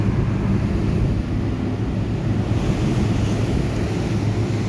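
Ocean waves crash and roll in a steady, loud roar with heavy wind buffeting the microphone, near a coastal spot with fish cages, continuous and without any voices.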